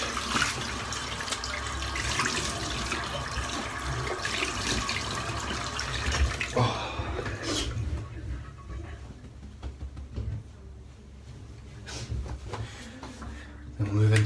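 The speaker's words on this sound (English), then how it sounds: "I'm just going to rinse off now." Water runs and splashes steadily in a tub as a freshly shaved head is rinsed, then drops to quieter trickling and dripping partway through.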